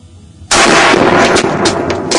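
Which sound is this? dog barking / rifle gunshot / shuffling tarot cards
rifle gunshot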